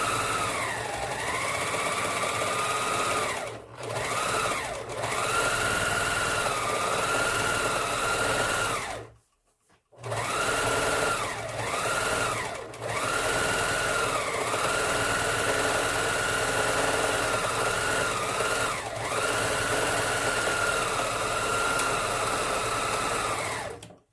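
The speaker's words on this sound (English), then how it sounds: "we're going to run this through the serger, through the small circle, and finish it off" A Singer Finishing Touch serger, an older model, runs steadily through fabric for a sewing project with a loud, continuous mechanical whir. It pauses briefly several times and stops fully for about a second midway. No one speaks.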